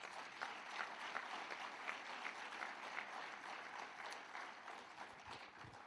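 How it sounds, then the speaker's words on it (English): A round of applause from the audience at a public works contractor development roadshow, steady and fairly distant, with the clapping dense and even throughout. "the Deputy Minister deserves a round of applause for this"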